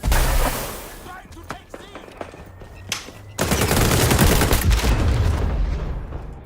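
Rapid gunfire in a first-person shooter game: scattered single shots give way to sustained automatic bursts that grow loud and continuous, with a player talking over the action.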